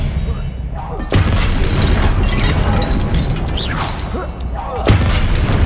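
Confringo spell blasts in Hogwarts Legacy land as two loud, booming explosive bursts, one early and one near the end, with crackling game noise and voices between them.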